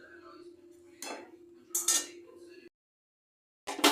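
A lid set onto a cooking pot of simmering curry clinks and clatters in a few sharp metallic knocks close by, separated by short pauses and a moment of silence.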